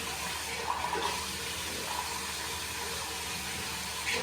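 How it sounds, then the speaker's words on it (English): Tap water runs steadily from a faucet while hands are washed, a continuous close hiss with faint splashes and small bumps. "I'm going to wash my hands to take out any germs."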